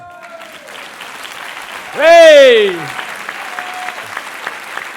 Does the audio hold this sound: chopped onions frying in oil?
no